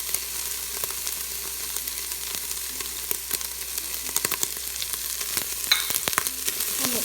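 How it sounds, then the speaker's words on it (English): Chopped shiitake mushrooms stirred in an Instant Pot, a steady sizzle and frying hiss with scattered scraping clicks of a utensil, close and continuous, no voices. "Give that a mix. And the chopped shiitake mushrooms."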